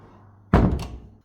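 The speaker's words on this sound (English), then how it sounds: "let's close the door just in case" A door shuts with a single loud, heavy thunk, then a short rattling decay after a quiet, humming lead-in.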